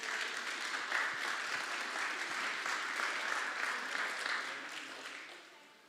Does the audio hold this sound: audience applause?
yes